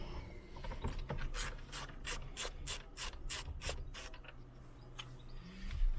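A screw is worked out of the plastic steering column cowling of a small city car, a Peugeot 107, Toyota Aygo or Citroen C1, giving a close, steady rhythmic ratcheting rasp of about a dozen clicks.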